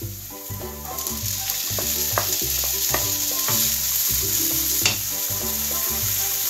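Onions sizzle steadily in a hot pan as a curry dish with potato and peas is being cooked, a loud continuous frying hiss heard alone and close, with no talking.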